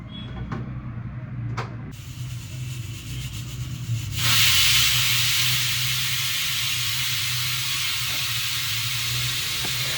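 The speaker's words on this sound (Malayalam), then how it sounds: "അങ്ങനെ ദേ കുക്കർ ഒരു വിസിലടിച്ചപ്പോൾ നമ്മൾ ഓഫ് ചെയ്തു" Pressure cooker cooking tapioca on a home stove: a low background rumble, then a sudden loud steady hiss of escaping steam that sets in partway through and continues to the end.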